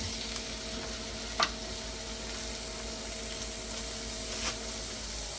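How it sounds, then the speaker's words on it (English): Onions browning in a pan for chili, giving off a steady, even sizzle throughout with a faint hum beneath and a couple of brief ticks. "I'm browning my onions."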